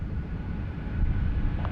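Qantas Airbus A330 starting its takeoff roll at Sydney Airport, a heavy low engine rumble that swells slightly, heard from a distance without talk.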